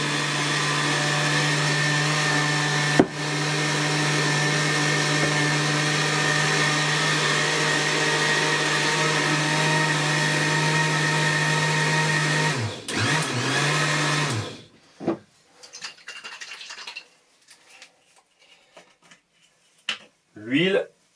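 An electric mixer whirs loudly and steadily for about thirteen seconds, blending egg with ingredients for fishing boilies, then cuts out, leaving quiet handling clatter and light knocks.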